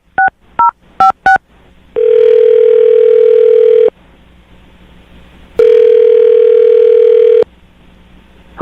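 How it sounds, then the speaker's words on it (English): A telephone being dialed: four quick touch-tone beeps, then two long steady ringback tones separated by silence, loud and close with no voices. "I'm going to dial his phone number right now"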